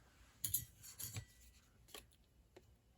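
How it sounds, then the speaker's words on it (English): Scissors snip through paper for a handmade birthday card, several quiet close crisp cuts spaced out over a few seconds in a still room. "Now we're going to cut."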